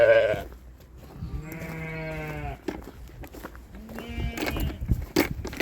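Sheep bleat in a lambing shed: several drawn-out, wavering calls from nearby animals, one after another, with shuffling and footsteps in between.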